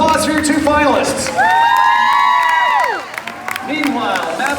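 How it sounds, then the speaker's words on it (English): A studio audience at a Fear Factor Live stage show cheers, whoops and applauds for two finalists, a loud continuous crowd roar with shouts rising over it, easing slightly near the end. "One more round of applause for your 2 finalists."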